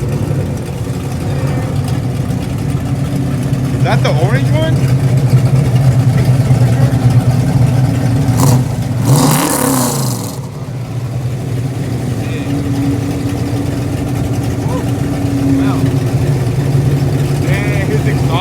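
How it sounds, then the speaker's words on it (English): At a cars-and-coffee meet, a Ford Mustang idles with a deep, steady engine rumble and blips its throttle once in a short loud rev, while people chat nearby over the crowd noise. "You hear that Mustang?"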